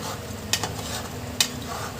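A utensil stirs thick masala for an egg curry in a pan over low heat, with two sharp metallic clinks against the pan over a soft, steady background scrape.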